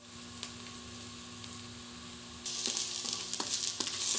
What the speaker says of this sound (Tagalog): At dito nga pala magigisa na po ako dyan ng sibuyas. Piprituhin ko muna.